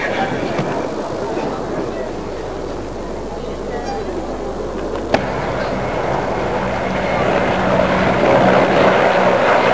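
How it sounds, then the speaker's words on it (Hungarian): A loud aircraft roars past at the 2000 Kecskemét airshow in Hungary, a dense, steady engine drone that swells toward the end, while an announcer talks over it. "Repülőgép következik, Szelke Tibor alezredes úr vezetésével"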